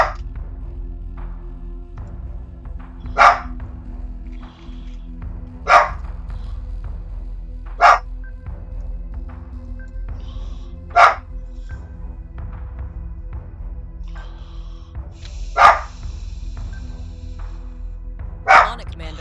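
A dog barks in the Battlestar Galactica Deadlock video game. About seven sharp, single barks ring out at irregular intervals of a few seconds, loud and clear over a quiet, low ambient hum.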